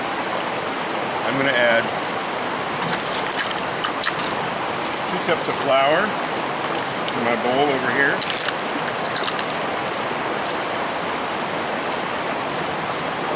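A noisy creek rushing close behind, a constant broadband water roar running the whole time under a person talking while preparing Dutch oven pizza dough outdoors.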